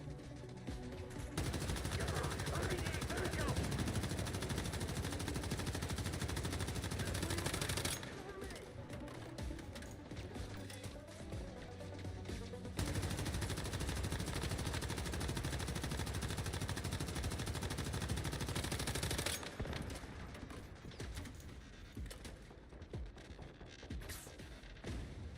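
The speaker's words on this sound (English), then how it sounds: "Not a fan of this LMG, it just does not do good damage." Light machine gun fire in Once Human, long sustained bursts of rapid automatic shots, loud and dense, with brief pauses between bursts and a dip around the middle.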